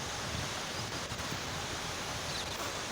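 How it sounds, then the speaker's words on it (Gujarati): Water flows from the rebuilt Machchhu dam at Morbi as a steady, even rush of broadband noise, moderately distant and unbroken throughout. "જો પાણી પણ ચાલુ છે"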